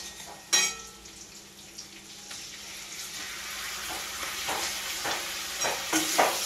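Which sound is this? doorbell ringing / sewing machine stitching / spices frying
spices frying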